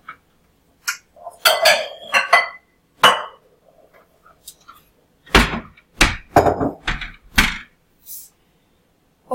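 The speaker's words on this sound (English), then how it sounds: "I'm going to get out a bowl." A bowl is taken out in a kitchen while baking honey coconut biscuits, with a series of scattered clinks, knocks and clatters, close and fairly loud, separated by short silences.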